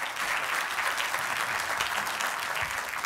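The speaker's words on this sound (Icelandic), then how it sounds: "Gjörðu honum gott klapp." An audience at a lecture event claps for an incoming speaker, a steady, dense wash of applause from a roomful of people, with no voices.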